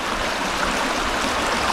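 A clear creek flows in a valley as a steady, close rush and babble of water, even in loudness throughout, with no voices.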